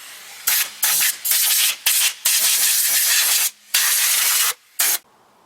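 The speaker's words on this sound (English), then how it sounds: "Compressed air." Short bursts of compressed air blow off a dirty, rusty car suspension part, a string of loud hissing blasts separated by brief pauses.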